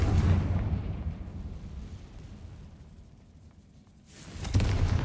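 A Confringo fire spell blasts in Hogwarts Legacy, a deep booming burst followed by a rumbling decay and then a second heavy boom near the end.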